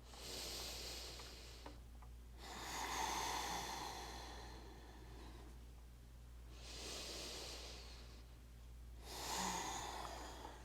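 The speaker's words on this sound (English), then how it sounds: "Two more slow, deep breaths here." Slow, deep breathing during a seated chair yoga session: three long, airy breath sounds, roughly every four seconds, separated by quieter pauses. Close and fairly soft, with no talking.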